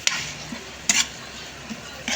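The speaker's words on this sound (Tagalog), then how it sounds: "Igisa natin mabuti yung giniling para mawala yung lansa." Soft sizzling of ground meat sautéing in oil in a pan with a few scraping stirs, fairly quiet and close.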